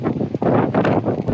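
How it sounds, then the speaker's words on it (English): Outdoor wind on a breezy day buffets the microphone. A loud, steady rumble of gusts fills the whole short stretch with no speech. "It's a little windy today."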